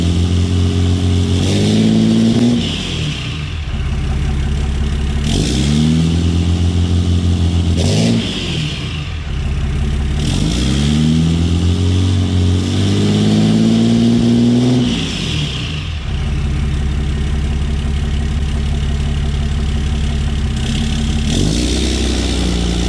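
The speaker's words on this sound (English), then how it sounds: "just idling so that turbo gets nice and oiled before you rev it up" A 2014 Ram 6.7 Cummins diesel engine with a newly installed turbo revs up repeatedly, rising and falling in pitch in several long surges, loud and close, with no talking.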